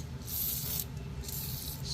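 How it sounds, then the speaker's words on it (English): Penetrating oil is sprayed onto a rusty rear wheel hub of a Toyota Camry, two short hissing bursts from an aerosol can heard close and fairly quiet, with no talking. "spray the penetrator to at least break off the rust on the wheel hub"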